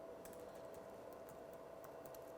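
A question is typed on a computer keyboard, with soft, fairly faint key taps in quick irregular bursts over a steady background hum.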